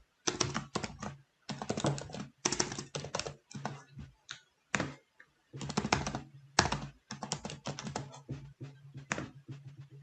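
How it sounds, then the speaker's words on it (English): A password is typed on a computer keyboard in rapid bursts of close, clattering keystrokes with brief pauses between runs, heard on its own without speech. "Let's just type the password incorrect this time."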